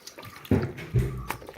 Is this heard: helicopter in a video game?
no